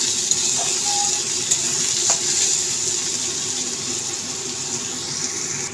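Onion paste fries in a pan with a steady, close sizzle that lasts about six seconds, and no one speaks.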